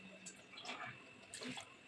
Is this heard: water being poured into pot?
yes